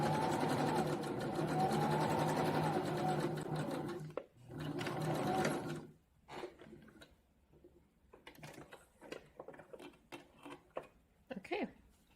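A home sewing machine runs a zigzag top stitch on bra fabric in a loud, steady whirring burst of about four seconds, pauses briefly, then runs again before stopping; faint clicks and handling noises follow.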